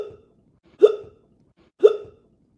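A man hiccups loudly, twice, about a second apart. Each hiccup is short and sharp with a voiced catch at the end, close by, with silence in between.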